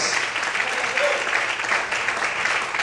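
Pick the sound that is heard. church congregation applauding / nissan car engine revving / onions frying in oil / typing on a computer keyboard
church congregation applauding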